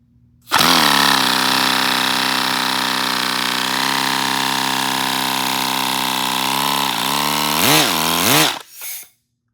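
A 20cc miniature inline twin-cylinder model engine starts abruptly and runs very loud and steady at close range with a harsh buzzing drone, then revs up and down a few times before cutting off.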